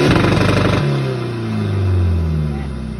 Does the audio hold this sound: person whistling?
no